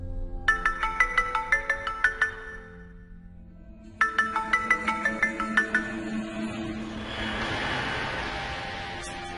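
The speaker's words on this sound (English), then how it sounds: "This time I used the ringtone to trigger the marksman mode." A phone ringtone plays twice as a rapid run of bright, regular electronic beeps, pausing briefly between bursts, then gives way to a wash of hiss and static.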